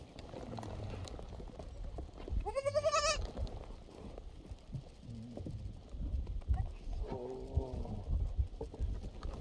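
Baby goats give a few short bleats, one clear cry early and a softer one later, over rustling and low barnyard noise at moderate distance.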